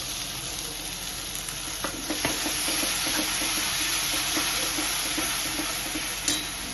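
Tomato paste frying in onion paste for palak paneer, a dense, steady sizzle close by with occasional light stirring knocks and no voices.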